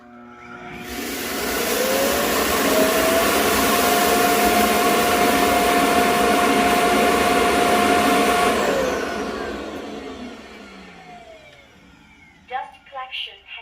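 An Arnagar S8 Pro robot vacuum's self-emptying dock roars loudly as it sucks dust from the dustbin, a steady whine lasting several seconds before winding down, with brief voices at the end.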